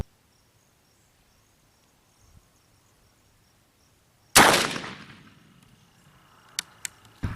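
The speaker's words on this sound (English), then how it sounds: "Here goes the next few shots." One loud rifle shot at an outdoor range cracks sharply after a long quiet stretch with faint insect chirps, then fades into a ringing decay, followed by a few small distant clicks.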